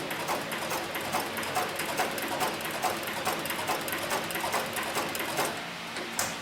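A post-bed arm sewing machine stitches leather with a steady, rapid mechanical chatter of needle strokes, close and continuous with slight rhythmic variation as the piece is turned.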